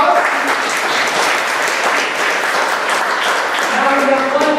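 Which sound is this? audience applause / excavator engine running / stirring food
audience applause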